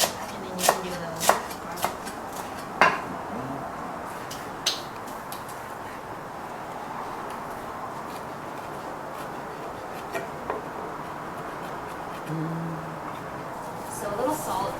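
Garlic is chopped on a board with a handful of sharp knife taps in the first few seconds, then the cutting fades into quiet background rustle with only occasional faint clicks.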